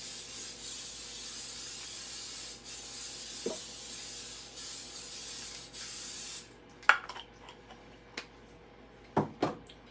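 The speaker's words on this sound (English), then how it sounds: "with cooking spray." Cooking spray hisses in a long, soft, steady burst over a casserole pan, then stops, followed by a few light taps and clicks.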